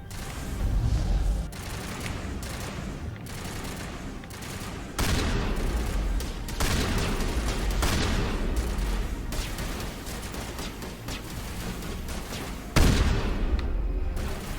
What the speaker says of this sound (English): There are so many snipers around here.